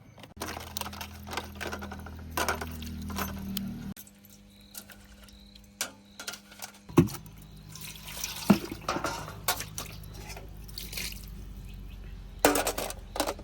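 Water runs from a tap while cleaned crabs are washed for a spicy village-style curry, a steady flow at first, then splashing, dripping and handling clatter in a quiet kitchen.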